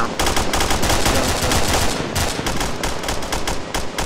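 Gunfire in the military video game ARMA II, loud rapid bursts of automatic weapon fire with several guns overlapping in a dense, continuous volley that thins slightly toward the end.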